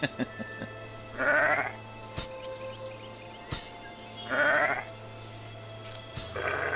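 Sheep in the video game Arcfall bleat three times at spaced intervals, with sharp clicks and a steady low hum between the calls.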